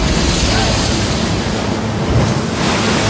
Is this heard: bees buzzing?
no